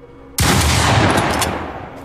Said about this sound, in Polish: Strzał.